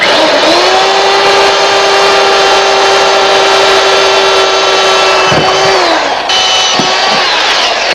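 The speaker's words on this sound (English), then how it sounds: "I'm going to take a drill with the same bit we used for the pilot hole" A loud electric drill whines at a steady pitch, then winds down as it bores pilot holes through wood for a storm door, with brief bursts of spinning up again.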